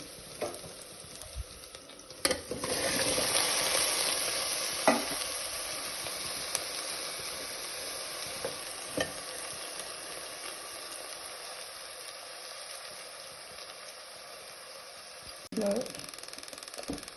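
Washed cauliflower hits a hot pan with ginger garlic paste and fries with a soft, steady sizzle, close by, with a few sharp clatters of stirring and a quieter stretch in the middle.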